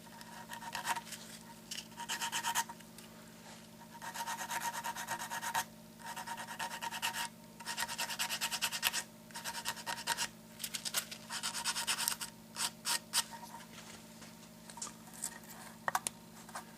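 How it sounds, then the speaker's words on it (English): Guitar binding being sanded with 220-grit sandpaper on a small ebony block: repeated rasping, scratchy strokes in uneven bursts with short pauses, close and fairly quiet, over a steady low hum. "So I'm just going to sand this now."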